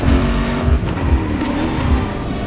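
The Hoonicorn, a Hoonigan gymkhana car, drives hard in The Crew Motorfest. Its engine roars loud and continuous, with tire squeal and skidding throughout.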